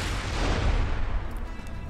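Explosion blowing up a buzzard aircraft in the Borderlands video game: a loud, sustained low rumbling blast that rolls on for nearly two seconds and slowly fades, with no talk over it.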